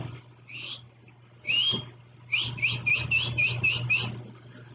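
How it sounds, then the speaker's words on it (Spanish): A person whistles a short series of rising notes, first two separate calls, then a quick run of six or seven repeated chirps over a low hum. "llamamos a alguien por medio de un silbido"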